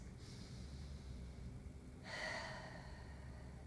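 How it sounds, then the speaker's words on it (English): During a Pilates session, a slow, deep breath is drawn in through the nose, a soft airy inhale that builds and then gives way to a brief, stronger rush of breath near the end, close and quiet. "So breathing in through the nose"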